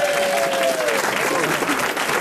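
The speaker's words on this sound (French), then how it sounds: "Applaudissements." An audience bursts into sustained, dense applause throughout, loud and steady after a singer's performance of the Jem theme on a French radio comedy panel show, with a brief sung or spoken tone fading near the start.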